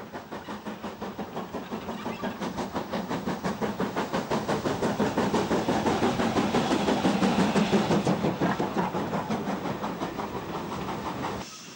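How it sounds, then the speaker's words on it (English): Crab steam locomotive 42896 pulls away with its train heading north, a rapid, regular chuffing exhaust beat with hiss building to a loud, close peak before easing slightly, no voices. "The crab, number 42896, gets away with her train to the north."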